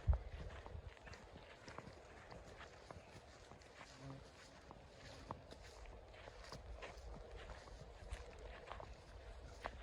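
A mare's hooves clip-clop in a steady walking rhythm at close range, with voices talking over the sound.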